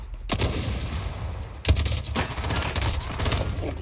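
Gunfire in the video game Warzone: dense, continuous bursts of automatic weapon fire with a sharp heavy shot partway through, loud and close throughout.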